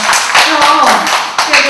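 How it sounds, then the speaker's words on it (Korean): Short burst of audience clapping for a poet at a Korean book talk, close and fairly loud, with a voice audible over the claps. "큰 박수 다시 한번 부탁드립니다."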